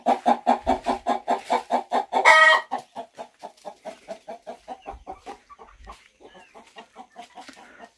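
Chickens cluck in a steady, loud run of repeated calls near an orange tree, with one brief crow-like squawk partway through, then the clucking continues more softly.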